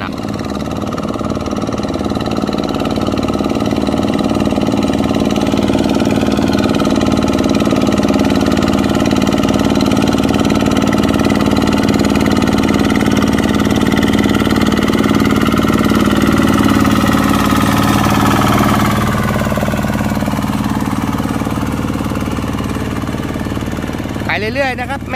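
A motorcycle with a heavy sidecar-style frame rolls along slowly without accelerating, its mid-pitched engine chugging steadily and loudly close by, easing off near the end.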